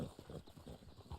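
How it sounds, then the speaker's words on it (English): Horse hooves clip-clopping in the Western video game Red Dead Online, a quick faint run of steps lasting about a second. "What is my horse doing right here"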